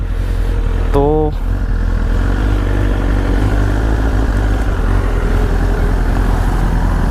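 A BMW S1000 motorcycle engine in race mode, running without an aftermarket exhaust, holds a steady loud idle rumble throughout, with one brief rev-like sweep early on and a short spoken word.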